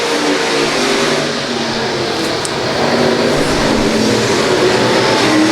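Race cars at a dirt oval track at LA Raceway roar down the front straight in a loud, continuous wash of engine noise that builds slightly toward the end.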